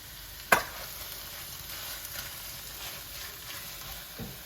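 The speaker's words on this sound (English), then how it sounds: "So in this bowl I've got, because from the freezer, prawns and mussels. They're going to go in now." Frozen prawns and mussels are tipped into a hot pan for seafood pasta, giving one sharp clatter followed by a low, steady sizzle and a soft knock near the end, faint and without talk.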